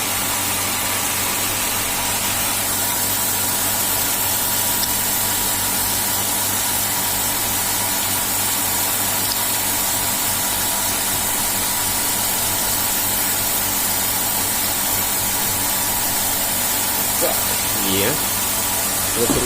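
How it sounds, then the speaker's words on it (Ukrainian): Antiscalant dosing pump on a reverse osmosis water system, restarted after winter, runs with a steady, even mechanical hum and hiss throughout, with a few faint clicks near the end. "будемо запускати насос для антискаланта"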